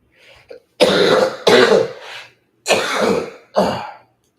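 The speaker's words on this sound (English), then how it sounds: "I am coughing way too darn much" Four or five loud, harsh coughs close by, coming in bursts with short pauses between them, preceded by a couple of faint throat noises.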